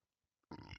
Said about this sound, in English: that was a hell of a belch